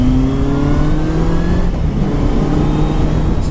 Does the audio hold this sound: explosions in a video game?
no